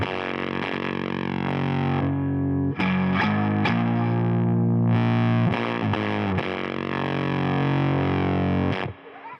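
Electric guitar through a Ruthie Fuzz pedal and Dynamic Preamp, playing loud, thick fuzzy chords and short riffs with gritty sustain and brief gaps between phrases, alone without speech.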